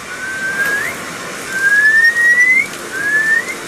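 A person imitates a frog's mating call with a series of thin, rising whistled chirps, three short calls in a row over a steady outdoor hiss near volcanic caves.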